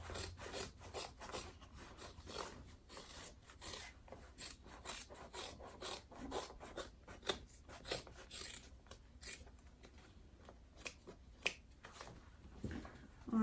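Scissors trim the exterior fabric of a vinyl zip-top tote bag, giving a close run of dry rasping snips and rubbing rustles with an irregular rhythm and no talking.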